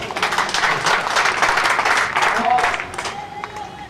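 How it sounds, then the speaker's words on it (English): Spectators clap steadily through a women's bowls open final, a dense rolling patter of applause that fades slightly toward the end with faint voices underneath. "The clap there is for Glenda turning over Natalie's bowl"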